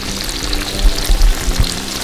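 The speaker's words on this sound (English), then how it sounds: "Put them right down into that 350 degree peanut oil." Chicken-fried steaks fry in 350-degree peanut oil on a Blackstone 5-burner griddle range top, giving a loud, steady, dense sizzle with a few soft bumps.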